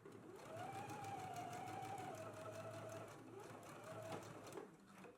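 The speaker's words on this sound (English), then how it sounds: "We can go to the sewing machine and you want to stitch in a 5/8 of an inch seam allowance." A sewing machine stitching a 5/8-inch seam on a garment runs steadily for several seconds, a close, even mechanical whir with rapid needle rhythm, and a voice-like tone hums faintly underneath.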